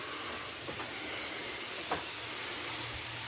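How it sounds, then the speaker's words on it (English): Roasted curry dill carrots sizzle and hiss steadily in a hot pan straight from the oven, a broad, even crackling wash with a few faint clicks and no talking. "Well, I hear the sizzling."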